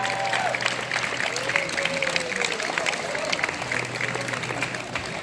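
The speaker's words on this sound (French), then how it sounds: "on les applaudit parce que c'est leur première grande scène ici" Audience at the Nuits du Sud open-air festival in Vence applauding a band taking the stage, sustained dense clapping with some crowd noise and a faint voice or whistle beneath, steady and full for several seconds.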